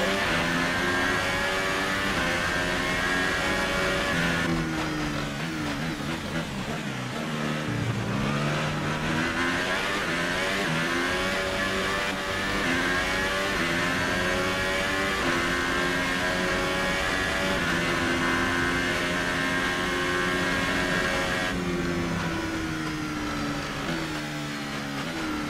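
A race car engine on a German Grand Prix warm-up lap revs hard and continuously, its pitch climbing and dropping as it works up and down through the gears, loud and close throughout.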